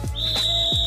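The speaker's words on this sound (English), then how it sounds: "And there's the whistle right there." A referee's whistle during a Lakers basketball game, a loud sustained shrill tone that holds steady for nearly a second, with short low thumps breaking in underneath.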